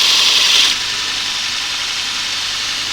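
Chisel bevel being re-ground on a Robert Sorby Pro Edge belt sharpener, a steady close hiss of abrasive on steel that is louder for the first moment and then continues as a constant grinding rasp.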